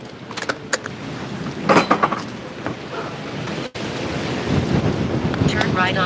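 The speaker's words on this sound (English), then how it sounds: "Woo, it's windy." Wind gusts outdoors on a city street, buffeting the microphone with a steady low rumble and rushing noise that swells and eases throughout.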